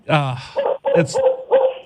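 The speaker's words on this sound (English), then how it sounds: "That's my dog, Ollie." A dog barks and yips in a short run of four bright, close barks with a slightly whiny edge, each clipped and separated by brief pauses, loud and alone.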